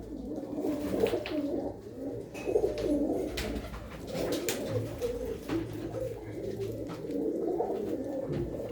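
Pigeons coo in soft repeated low phrases close by on a rooftop loft, overlapping into an uneven rhythm, with small rustles and faint background noise between calls.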